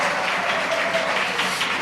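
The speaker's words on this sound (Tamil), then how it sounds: "கைத்தட்டுங்க ஒரு முறை." A church audience applauds at a Bible exam prize distribution, a brief, dense wash of many hands clapping at an even, sustained level.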